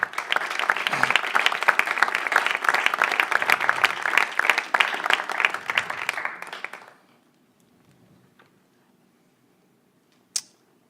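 A church congregation breaks into loud, sustained applause for about seven seconds, then stops abruptly, leaving near silence with one brief sharp sound near the end.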